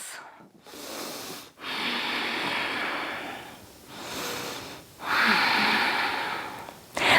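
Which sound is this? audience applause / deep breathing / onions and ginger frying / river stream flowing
deep breathing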